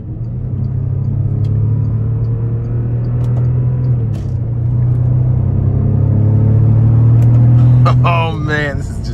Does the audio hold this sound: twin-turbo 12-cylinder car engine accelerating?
yes